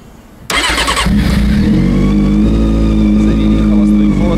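A motorcycle engine catches and settles into a loud, steady idle, its rumble holding close and continuous after a brief quiet start; the bike is being checked for a charging relay fault.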